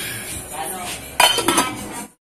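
A metal lid is set onto a cooking pot while preparing a Filipino vegetable and tilapia stew, giving a couple of sharp clinks and a short rattle after some quiet handling noise.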